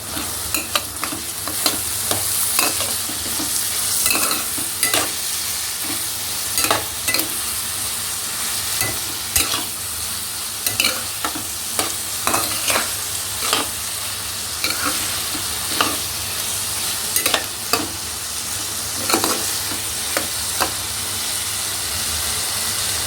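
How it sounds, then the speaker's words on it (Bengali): Parboiled soybean chunks and potato sizzle steadily in a hot pan as a red curry is stir-fried. The spatula scrapes and stirs in regular strokes over a constant loud hiss, with no talking. "এখানে লাল লাল কষা কষা সোয়াবিন আলু তরকারি করছি"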